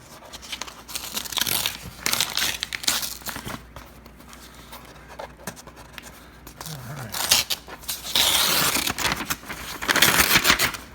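A recyclable paper-wrapped package with address-label stickers being torn open, with bursts of crinkling and ripping paper that swell louder toward the end, close to the listener.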